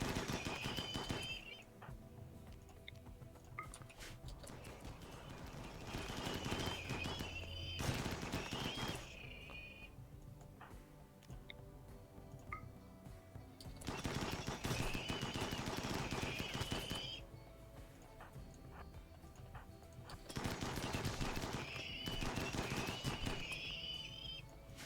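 Colonists fire guns in a video game, producing bursts of rapid crackling gunfire in several waves with short pauses between them, dense and fairly loud throughout.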